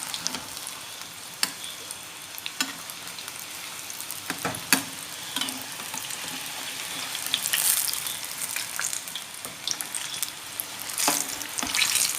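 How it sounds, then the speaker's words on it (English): Sukhiyan, a Kerala street-food snack, sizzles and crackles steadily as it fries in a pan, with occasional sharper pops and stirring clatters throughout. "We have to fry it nice."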